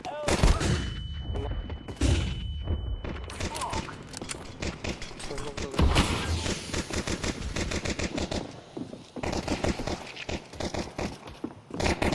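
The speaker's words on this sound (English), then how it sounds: "Throwing the flashbang." Rapid gunfire bursts and a flashbang grenade in a tactical shooter match, dense repeated shots filling the whole stretch with voices talking over the action.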